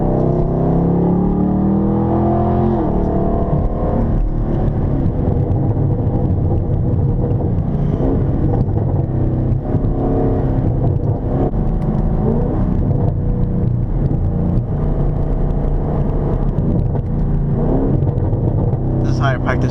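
A car drives on a road at night with a steady, close engine drone and road rumble, rising and falling slightly as it accelerates, while someone talks over it.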